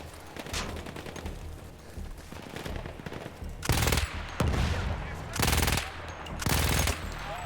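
Heavy machine gun fire in the World War I shooter Battlefield 1, long loud bursts repeating in a steady rhythm amid distant battle noise.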